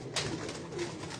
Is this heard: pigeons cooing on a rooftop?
yes